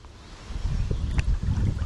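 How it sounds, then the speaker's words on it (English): Wind gusting at a creek, a low broadband rumble and buffeting that swells after a quieter start and stays steady, close to the microphone with no voices. "Oh yeah, that wind"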